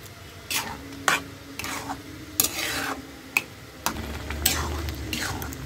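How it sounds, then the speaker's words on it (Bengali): Grated carrot stirred and fried in ghee for halwa, with a soft sizzle broken by repeated sharp scrapes and clinks of a spoon against the pan, close and unhurried. "ঘিয়ের ভিতরে এভাবে নেড়ে ছেড়ে পানিটা শুকিয়ে একটু ভাজা করে নিব"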